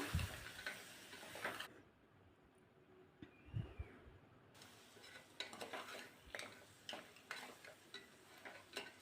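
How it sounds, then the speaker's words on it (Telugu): Goat leg curry with chilli powder and turmeric is stirred in a pot, giving faint, close scrapes and light utensil clinks at an uneven pace, with a quieter pause early on. "యాడ్ చేసుకుని చక్కగా కలుపుకుంటున్నాను"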